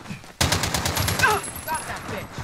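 Rapid bursts of automatic gunfire in a Call of Duty Warzone Iron Trials match ring out after a brief quiet start, loud and close, then fade into scattered shots and game ambience with no talk.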